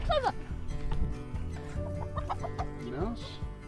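Backyard chickens in a coop cluck and squawk in short, overlapping bursts, moderately close, with a steady outdoor murmur underneath and no talking.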